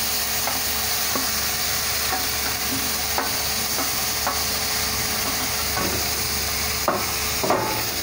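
Potato and pumpkin being stirred into browned fried masala for aloo kaddu sabzi, with a continuous hiss of frying oil and regular soft scraping strokes of a spoon in the pan, close and steady with no talking.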